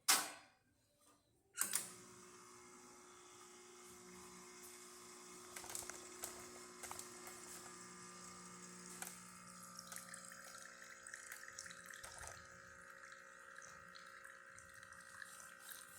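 A mechanical click, then a steady pump hum and faint trickling of espresso from a Lelit Mara X pulling a shot with coarse-ground coffee, running continuously fast, with small ticks and hisses from the machine.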